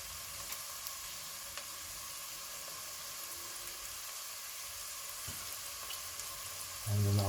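Onion and thyme fry in olive oil in a pan, giving a soft, even sizzle throughout with a few light stirring taps, steady and fairly quiet.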